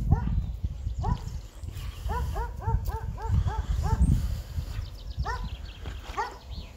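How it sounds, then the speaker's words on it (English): A dog barks in quick repeated bursts during an outdoor walk on the Fens, with bright rising yips in clusters over steady wind and footstep noise. "Ah, a doggy barking at me."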